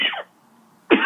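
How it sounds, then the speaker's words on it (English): Two short, close coughs from a man, one at the start and one near the end, separated by a near-silent gap. "I'm afraid this is going to happen with the cough."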